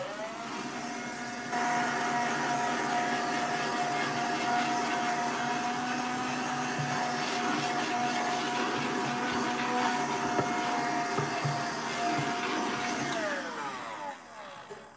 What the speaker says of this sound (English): grab the vacuum. The vacuum.